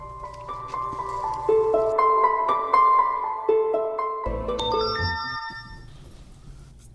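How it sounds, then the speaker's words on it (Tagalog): A cellphone ringtone plays a loud melodic tune of bright electronic notes stepping up and down, followed by a brief burst of higher tones near the end. "Cellphone."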